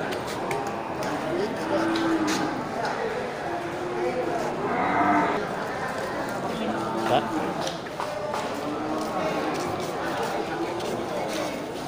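Water buffalo bulls and cows at a livestock market low and shuffle nearby, with moos and hoof movements over a busy background as people talk throughout.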